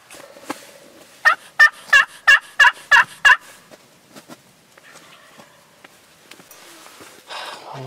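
Two wild turkey gobblers call about 100 yards off on an early-morning hunt, giving a quick series of around six loud, evenly spaced gobbling bursts, followed by quiet rustling.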